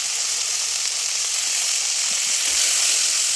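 Onions sautéing with turmeric, chili and salt in a pan for a Bengali fish curry with eggplant give a steady, close broadband sizzle that holds evenly throughout, with a few faint soft thumps underneath.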